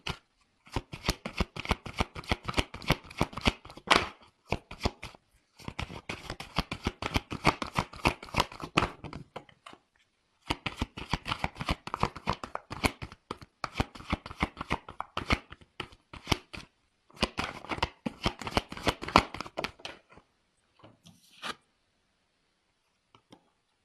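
Tarot cards are shuffled in long, crisp riffling bursts separated by brief pauses, close and alone, ending with a few light taps as cards are drawn.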